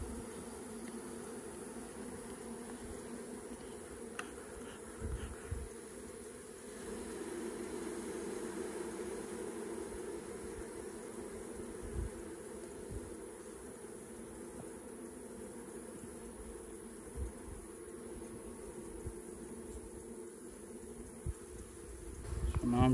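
Honey bees buzz in a steady, close drone from an opened hive, a continuous hum with occasional soft handling knocks.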